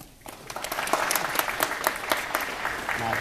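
An audience claps and applauds to welcome a presenter at a school program, with steady dense clapping that builds after a quiet start and holds through to the end.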